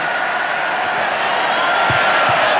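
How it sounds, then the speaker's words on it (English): A big stadium crowd at a 1989 rugby Test in Sydney roars steadily and loudly, with the broad wall of noise never letting up and a few low thumps breaking through near the end. "the crowd really roaring themselves hoarse"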